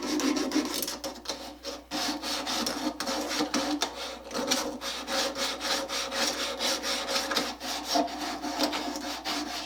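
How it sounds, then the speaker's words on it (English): A wooden handsaw tote sanded by hand with 150 grit cloth-backed emery paper, a close, continuous rhythmic scratching of rapid back-and-forth strokes throughout. "Using 150 grit emery paper, the cloth back kind."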